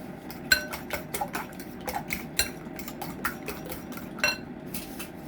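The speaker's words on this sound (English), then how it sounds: "And I mix that in together just to combine it" Carrot cake batter being mixed by hand in a bowl, with a utensil clinking and tapping against the sides in an irregular rhythm of light knocks over a soft background.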